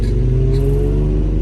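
An Infiniti G37 with a built VQ engine idles loudly with a deep, steady rumble and a slight rise in revs, close up.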